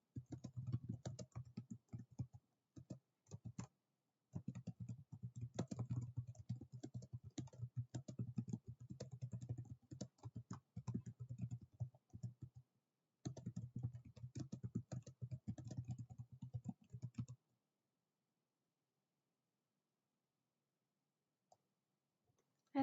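Rapid typing on a computer keyboard clatters in bursts of quick, close clicks, pausing twice briefly and then falling silent near the end.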